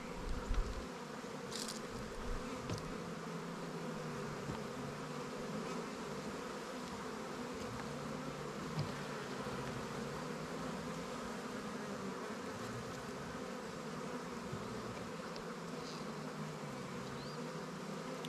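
A dense, steady hum of many honey bees buzzing close by on a comb frame, continuous and even, with no voices.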